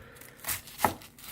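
A knife cuts onion on a cutting board, giving a couple of quiet, close thuds and slicing sounds spread across roughly a second and a half, with no voices.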